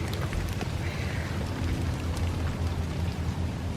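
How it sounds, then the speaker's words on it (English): Rain falls steadily on garden plants, a dense even hiss of close droplets pattering on leaves with no talk. "look how it's enjoying the rain"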